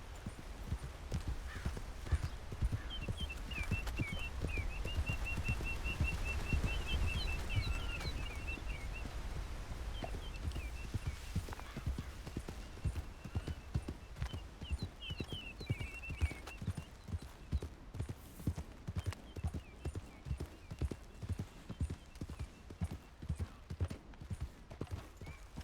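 Horse hoofbeats from Red Dead Redemption 2, a steady clip-clop of a ridden horse moving across open country, continuous and fairly close, with bird calls and a brief whinny in the background.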